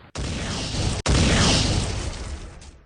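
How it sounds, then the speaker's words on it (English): Two heavy booming cannon blasts from a man-o'-war go off in quick succession, loud and close, each followed by a rumbling roar that slowly fades. "3 cannons on the man-o'-war fired."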